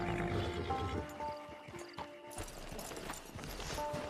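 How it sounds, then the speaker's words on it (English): In the Red Dead Redemption video game, a horse's hooves clop in an irregular rhythm near a camp. Brief whinny-like tones rise over the steps, with faint ambient game sound behind. "It's your horse."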